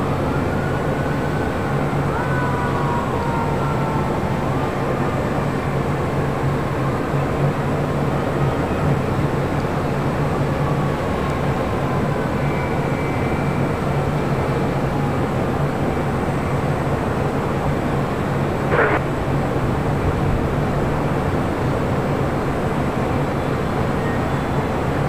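An Air Tahiti Nui Boeing 787 Dreamliner comes in to land, heard as a steady distant jet rumble with a faint whine. A brief sharp tick sounds near the end.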